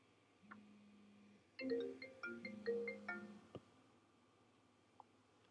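A phone's ringtone chimes with a short melodic run of bright tones, preceded by a single held note and followed by a few faint clicks, heard alone in a quiet room.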